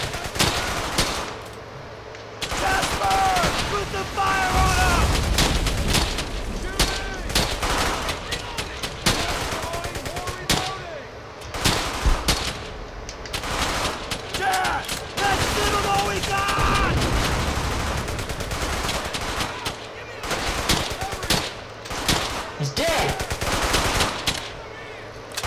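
Sustained battle gunfire in Brothers in Arms: Hell's Highway, dense machine-gun bursts and rifle shots crackling almost continuously, loud and close with occasional heavier blasts, and voices shouting intermittently over the din.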